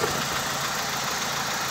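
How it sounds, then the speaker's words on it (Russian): A 1997 Daewoo Nexia engine, just fitted with a new oil pressure sensor, runs at a steady idle with an even, fairly quiet mechanical hum and no voices. "Двигатель шумит, наверное, еще и плохо слышно."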